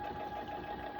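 A sewing machine runs a short back stitch through teddy bear fabric, giving a brief, steady mechanical hum with no voices.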